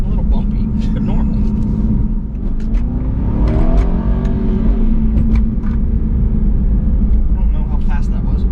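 Aston Martin Vantage 4.7 V8 accelerating from inside the cabin, a loud steady engine drone with rising pitch sweeps as it gears up, with a person talking over it throughout.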